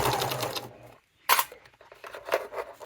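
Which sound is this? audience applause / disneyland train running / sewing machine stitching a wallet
sewing machine stitching a wallet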